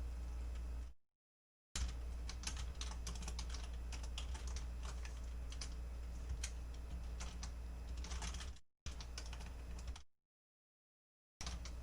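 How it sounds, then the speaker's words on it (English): Steady, close computer keyboard typing with rapid clicking keystrokes running almost continuously, broken by a few short silent gaps, over a low background hum. "Is my keyboard way too loud, by the way?"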